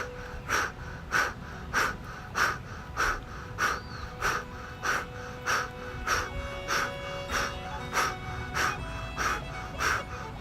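Deep, rhythmic breathing during a breath work exercise, with steady forceful inhales and exhales repeating about every half second, close and continuous.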